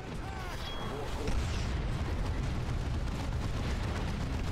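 An artillery strike lands in the strategy game Dawn of War 2 (Wrath of the Blood Ravens mod): a heavy, sustained low rumble of explosions swells and stays loud, with a brief high tonal effect at the start.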